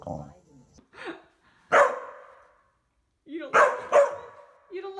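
A dog lying upside down gives several short, close barks and yips in separate bursts, while a person talks to it between them.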